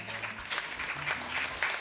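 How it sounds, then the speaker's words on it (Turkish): Audience applause at a live music performance, steady clapping filling the whole short stretch with a faint voice underneath. "Alkışlarınızla."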